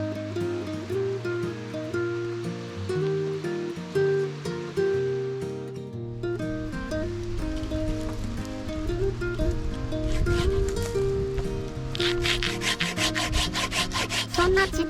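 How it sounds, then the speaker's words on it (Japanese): A small handsaw cutting through a firewood log at a mountain campsite, with rhythmic rasping strokes that grow louder and faster near the end, heard over background music. "そんなちっちゃいノコギリでこれ、 切れるんですか？"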